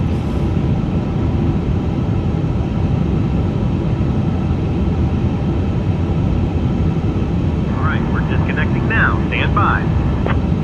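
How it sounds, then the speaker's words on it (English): A simulated airliner jet engine runs in Microsoft Flight Simulator 2024, a loud, constant roaring drone throughout, with a voice speaking briefly over it near the end. "Park brakes are set and we have a good engine start."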